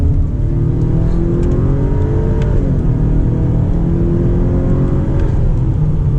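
Acura RDX A-Spec SUV accelerating hard on winding back roads, a loud close engine drone rising in pitch, dipping briefly at an automatic upshift and then climbing again, with no talk over it.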